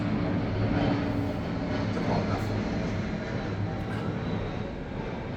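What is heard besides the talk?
airplane flying overhead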